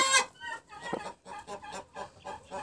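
A broody hen settling onto her eggs gives a run of soft, close, rhythmic clucks in short repeated bursts.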